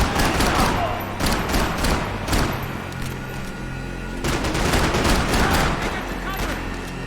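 Dense, continuous gunfire in a Brazilian favela shootout in Max Payne 3, with rapid overlapping shots and bursts, loud and close throughout, and some voices mixed in.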